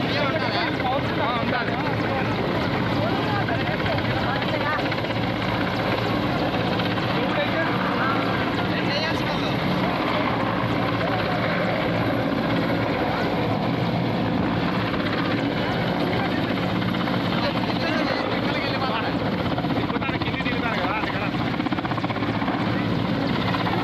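A rescue helicopter flies in a steady, loud rotor and engine drone that continues without a break, with a broad roar and a faint chop throughout.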